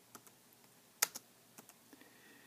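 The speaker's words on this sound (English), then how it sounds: "I'm going to type in the library" Quiet typing on a computer keyboard, a sparse scatter of soft clicks with one sharper keystroke near the middle, close and alone.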